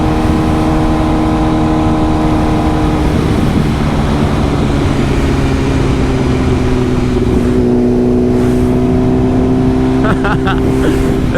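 A 2025 BMW S1000RR motorcycle engine pulls hard under load on a ride, a steady loud drone shifting in pitch as it accelerates, with wind roar throughout and a brief gear change near the end.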